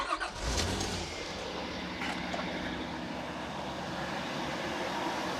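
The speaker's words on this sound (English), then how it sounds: "let me go get the engine started and let's see where it goes." A car engine cranks and catches, then settles into a steady idle, heard close and alone with no talking, while fuel pressure is being tested.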